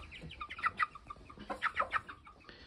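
Small yard fowl chickens cluck and chatter softly in short bursts at night while roosting, fairly faint and close by.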